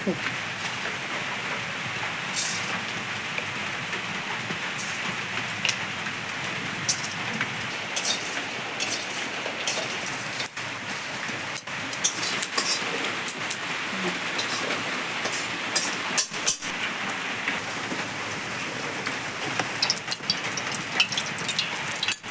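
Heavy monsoon rain pours steadily in a Bengali village during outdoor cooking, a dense, even hiss of drops hitting surfaces with occasional louder splashes, continuous and fairly close.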